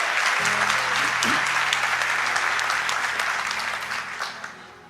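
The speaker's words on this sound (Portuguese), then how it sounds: "Pode dar um aplauso para Jesus se você acredita nisso?" A church congregation applauds at a service, with dense sustained clapping that fills the room for several seconds and then gradually fades out.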